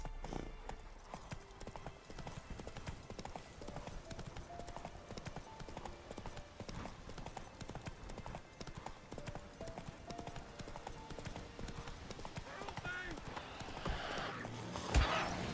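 Roach the horse's hooves clip-clop steadily along a road in The Witcher 3 video game, a quiet continuous trot.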